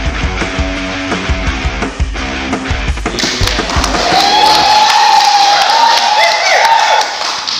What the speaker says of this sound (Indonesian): Meriah sekali tepuk tangannya.